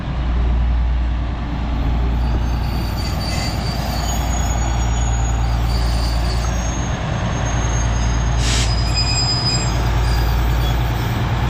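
A Virginia & Truckee diesel train rumbles steadily nearby, deep engine drone with rhythmic wheel clatter and occasional faint squeals over nearly twelve seconds.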